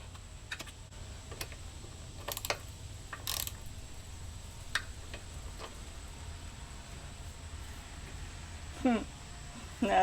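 Handlebar bolts being tightened on a Harley-Davidson Sportster motorcycle, heard as a few sharp ratcheting clicks and metallic taps, close and sparse over a quiet background hum.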